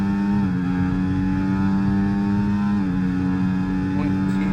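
A Ferrari race car in a racing video game pulls away at the green flag, a steady loud engine drone with a droning whine that shifts pitch as it accelerates, under a commentator's voice.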